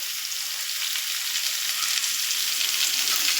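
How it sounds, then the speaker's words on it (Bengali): Taro stolons go into onions already browned in hot oil for a coconut and taro stolon dish, giving a steady, loud, close sizzle that holds evenly throughout with no voices. "পেঁয়াজটা ভাজা ভাজা হয়ে গেছে, এবার লতিগুলো এর মধ্যে দিয়ে দেবো।"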